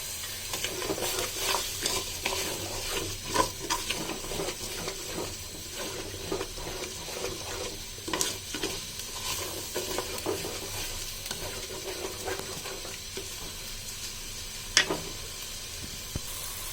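Rice sizzles steadily in a hot pan while a utensil scrapes and stirs through it, with occasional louder clinks against the metal.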